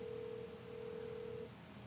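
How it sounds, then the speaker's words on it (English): A single steady telephone tone sounds as Google Voice connects a call, a clean beep lasting over a second over quiet line hiss. "Please state your name after the tone, and Google Voice will try to connect you."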